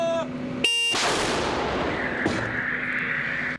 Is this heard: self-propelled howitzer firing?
yes